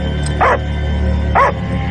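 A dog gives two sharp barks, close and loud, separated by about a second, over a low background hum in a dramatic film scene.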